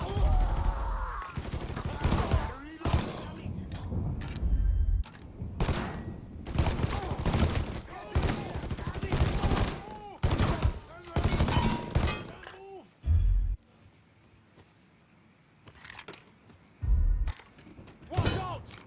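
Gunfire in the Mafia III video game, with repeated loud bursts of shots and mechanical clanks in a chaotic fight, mixed with shouting voices and a brief lull near the end.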